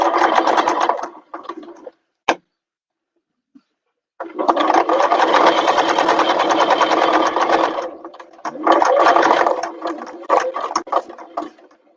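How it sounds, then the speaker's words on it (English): A sewing machine stitches two bag gussets together in runs of steady, close mechanical whirring. A long central burst is bracketed by shorter spurts, with brief pauses and a single sharp click between them. "we're going to start sewing the 2 gussets together"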